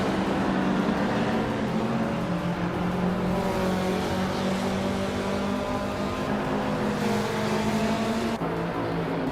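Steady engine drone from a 2003 Spiker C8 Le Violet in a racing video game, a continuous tonal hum that shifts gradually in pitch as it holds speed, with no pauses and no speech.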